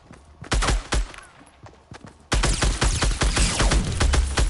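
Rapid gunfire in the video game Fortnite: scattered sharp shots at first, then a dense, loud burst of sustained automatic fire close by.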